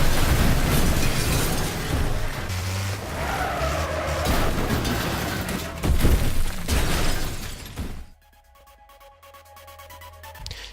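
Race cars in the demolition racing game Wreckfest skid and smash together with crunching impacts and loud bursts over a dense engine roar, before the sound drops to a quieter, sparse tail near the end.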